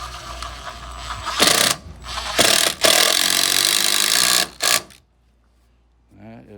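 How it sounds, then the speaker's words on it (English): An impact driver drives a screw into dense material in bursts of loud, rattling ratchet-like hammering, three close bursts separated by short pauses, then quiet with a faint voice at the end. "That is a impact driver, okay? It's gonna drive it through dense material."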